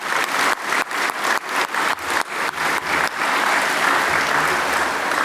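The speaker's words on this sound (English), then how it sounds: "Can we please give Michael a round of applause?" An audience claps at a breakfast event marking the anniversary of the National Apology to the Stolen Generations, beginning with distinct rhythmic claps that merge into a dense, steady wash of applause filling the room.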